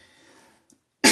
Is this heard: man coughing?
yes